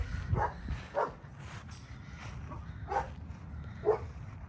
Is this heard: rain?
no